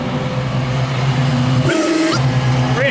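A 700-horsepower Ford Mustang Cobra with a sequential transmission idles with a loud, steady low rumble close by, then a brief dip and sharp rising blips as the engine is revved before settling back into its throaty idle.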